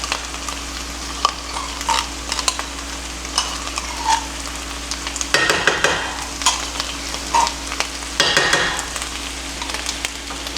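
Tomato paste stirred into homemade Hamburger Helper sizzling in a pan, with a steady frying hiss under scraping spoon strokes that come in bursts, close and fairly loud, with no talking.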